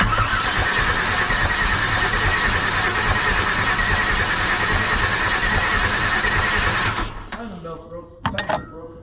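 A big block car engine cranks and runs in a loud, rough, continuous roar, close by, before cutting out near the end, followed by a few clanks and brief voices.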